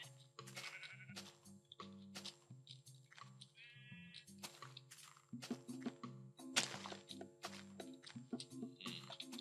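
Sheep bleat repeatedly in Minecraft, the short wavering game cries coming one after another at steady loudness over continuous background music.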